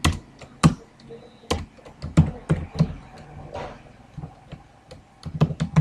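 Keystrokes on a computer keyboard while a C++ program is written, close-up and irregular, with quick bursts of taps and short pauses between them and no talking.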